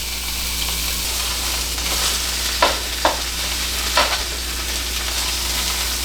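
Venison sirloin tips sear in a hot pan over medium-high heat, giving a steady close sizzle with a few brief sharp crackles and scraping stirs.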